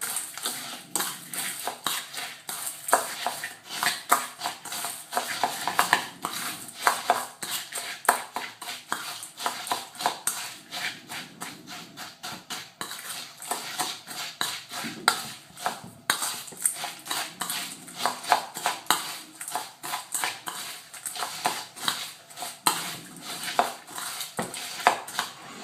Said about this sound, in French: vous allez mélanger